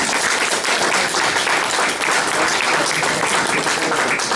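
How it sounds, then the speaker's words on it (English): Audience at a town hall meeting breaks into loud, steady applause, dense clapping filling the room for a few seconds with no voices over it. "I noticed not everybody in this room clapped."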